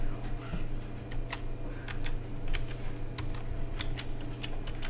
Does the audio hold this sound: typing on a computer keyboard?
yes